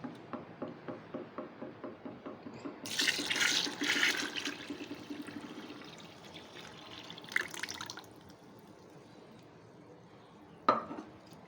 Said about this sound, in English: And I'm just gonna add this water.